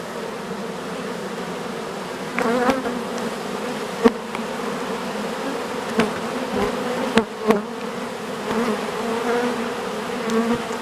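Steady, dense buzzing of many wasps close by at a beehive, continuous throughout with a few brief knocks and taps.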